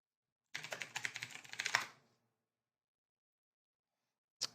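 A quick burst of typing on a computer keyboard, with rapid close keystrokes for about a second and a half, then silence and one final key tap.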